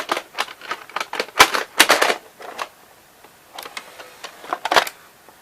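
A VHS tape loading into a Fisher FVH-907 VCR gives a run of sharp plastic clicks and mechanical clacks. They come in two clusters with a quieter gap between, close and fairly loud.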